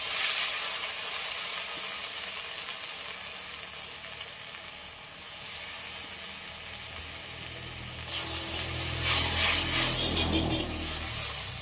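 Bhetki fish curry frying in a pan hisses and sizzles steadily, then erupts into a louder, bursting sizzle as water is poured in near the end, with no talking.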